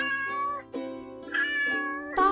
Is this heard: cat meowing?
yes